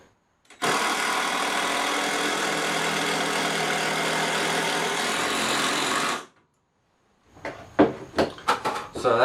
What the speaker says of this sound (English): I'm just going to screw together.